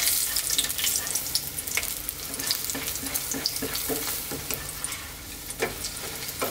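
Battered chicken balls shallow frying in oil, a dense, steady close-up sizzle with crackling pops scattered throughout and no voices.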